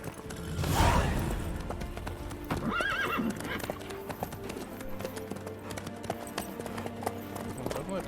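Horse hooves clip-clop steadily in The Witcher 3, with a loud whinny early on and another neigh a moment later, under faint ambient game sound.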